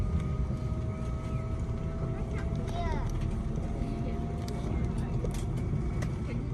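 Steady low cabin rumble aboard an Emirates A380 during pushback, a continuous engine and air-conditioning drone inside the cabin with faint higher tones drifting past and a voice speaking over it.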